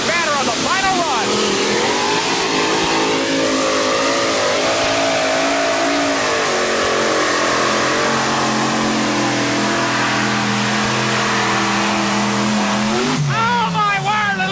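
A modified pulling tractor powered by six Chevrolet engines roars loud and close on a pull run at an NTPA 9200 modified tractor pulling event in Atco, NJ, its engines wailing and climbing in pitch under an announcer's commentary.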